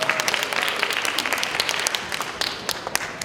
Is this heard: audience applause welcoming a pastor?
yes